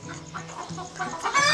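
Desi chickens and a rooster on a home poultry farm cluck in short, close bursts, a few bird calls overlapping one another with a louder squawk near the end.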